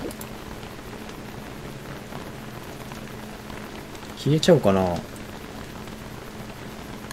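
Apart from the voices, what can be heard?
rain falling in the video game Don't Starve: Shipwrecked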